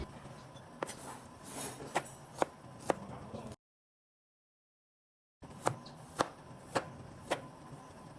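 Sharp knife chops on ginger on a cutting board, spaced about half a second apart, in two short bursts separated by a silent gap.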